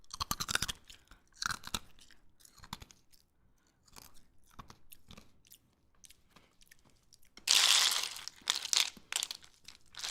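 Crunchy chewing and biting of hard, unusual treats in an ASMR mukbang styled as a metal shredder android, with close-up crisp crunches in bursts separated by pauses and a loud, dense crunching run near the end.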